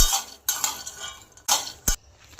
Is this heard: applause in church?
no